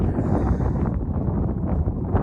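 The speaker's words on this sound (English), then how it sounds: "It is really windy out here today." Strong wind buffeting the microphone, a constant low rumbling roar with no one speaking.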